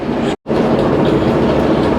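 A Soviet-era metro train in Uzbekistan rumbles steadily along with a dense, continuous roar and faint rail clatter, broken by a brief silent gap near the start.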